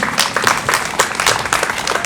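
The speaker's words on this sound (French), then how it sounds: "Une bonne main d'applaudissement pour Kenza El Azouzi." Crowd applause at an outdoor Black Lives Matter protest memorial for George Floyd, a steady wash of many hands clapping close by for the full length, with brief louder swells.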